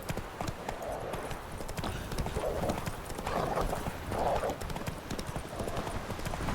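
Hooves of the horse Roach clip-clop in a steady trotting rhythm in the video game The Witcher III, moderately close, with a faint snort or whinny and some background game sound.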